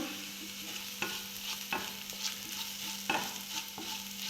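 A spoon stirs chili powder and turmeric frying in a pan for a Kerala prawn chammanthi, with soft scraping strokes about every half second over a low, steady sizzle.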